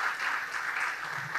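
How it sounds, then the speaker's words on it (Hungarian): Audience at a folk dance festival in Létavértes applauds a traditional dance group, dense steady clapping from many hands, moderately loud and continuous without pause. "Kérem, tapsolják meg őket is"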